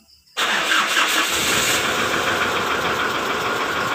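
A Mitsubishi Strada Triton GLS engine with a rough tak-tak-tak running fault cranks and fires after a brief silence, then settles into a loud, steady, rattly idle that continues close up to the end.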